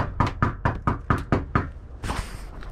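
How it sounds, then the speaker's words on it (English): Knocking on a door at a retirement or nursing home during a food delivery: seven quick, sharp, evenly spaced knocks close up, followed by a brief rustle. "Knock."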